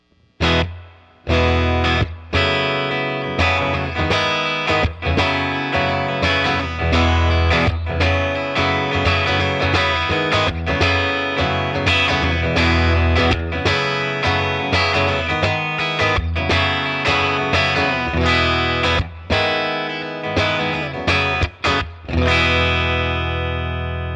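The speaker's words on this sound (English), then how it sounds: "it features a beautiful, chimey, very, very vintage vibe sort of tone coming from the Milkman" Chimey, vintage-toned playing from a Telecaster through a Milkman Half Pint 5-watt amp with reverb on, miked with a Sennheiser E906; a steady run of loud picked chords and notes with a slight ringing tail, playing continuously alone.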